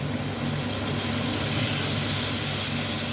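Water poured into masala frying in a pan hisses and sizzles in a steady, loud, continuous rush that runs unbroken throughout, with no talking.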